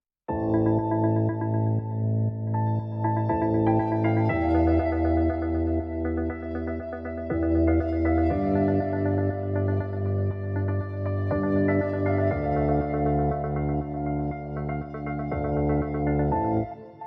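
Afro House keys layered with piano, produced in Logic Pro with light EQ and reverb, playing sustained chords that shift every few seconds in a steady, full, continuous loop with no voices.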